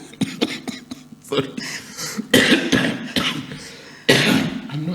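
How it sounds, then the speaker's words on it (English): Coughing bursts after laughter, several irregular coughs mixed with talking and a brief apology from the speaker, fairly close and loud. "Whenever I laugh, I cough."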